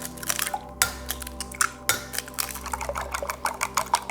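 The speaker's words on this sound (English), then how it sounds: "Eggs next. I just need to mix those up a little bit." Eggs are whisked in a bowl for fried rice, giving a steady run of quick, close, wet clicking strokes of the utensil against the bowl, without any talk.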